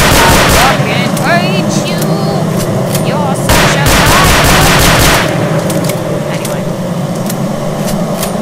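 Rapid bursts of gunfire from the video game STALKER: Oblivion Lost crackle loudly in quick repeated volleys over a steady rumbling background, with a voice speaking in between.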